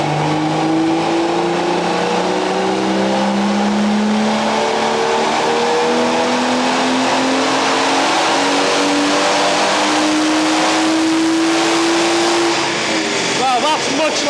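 A BMW M140i hatchback engine with a new exhaust revs loudly and continuously through rising gears, the pitch climbing repeatedly in long sweeps, close and dominant throughout.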